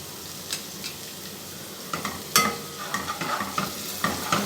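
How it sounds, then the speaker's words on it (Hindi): Cumin seeds frying in oil in a pan for chicken tikka handi give a steady close sizzle, punctuated by sharp crackles and stirring scrapes, with a bright burst around the middle. "ज़ीरा फ्राई करेंगे।"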